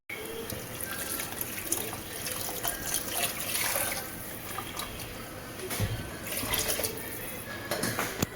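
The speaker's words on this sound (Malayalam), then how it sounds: "രസത്തിന് ആവശ്യമുള്ള വെള്ളം കൂടെ നമുക്ക് ചേർത്ത് വെക്കാം" Water is poured steadily into a pot of chutta rasam holding crushed tomato, a continuous close trickle and splash running the whole time with no talking.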